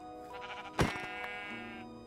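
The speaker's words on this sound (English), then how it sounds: "a sheep." Single sheep bleat in the Minecraft video game, a short loud wavering cry over soft background game music.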